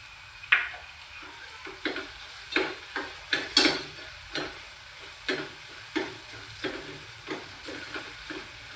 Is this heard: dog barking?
no